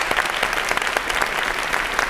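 A short burst of audience applause, dense clapping from a crowd, loud and close.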